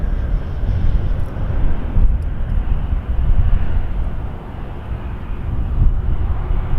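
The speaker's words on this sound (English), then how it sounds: "the 777-300 bears down upon runway 23" A Boeing 777-300 airliner approaching runway 23 at Toronto Pearson airport, a loud, steady low roar of jet engines with wind rumble that swells slightly at times.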